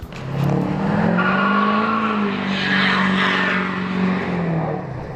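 A powerful car engine revs hard and holds at a high roar for several seconds, with a rising and falling whine, close and loud, no talking.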